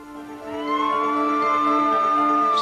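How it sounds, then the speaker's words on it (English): An ambulance siren wails loud and close, with a sustained tone that slowly rises in pitch. It sounds alone, with no speech. "Steve Eichelberger rode with his daughter in the ambulance to the hospital"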